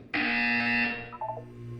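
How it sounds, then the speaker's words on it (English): A loud, sustained electronic buzzer from the Portal 2 video game sounds alone for about a second, then drops to a lower, fainter hum. "You will hear a buzzer."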